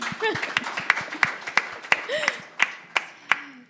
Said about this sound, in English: That's right, claps for that, for me.